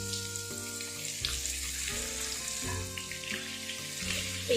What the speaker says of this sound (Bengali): কিছুটা চিকেন ছিল সেটাও কিন্তু আমরা এই তেলে ফ্রাই করে নেব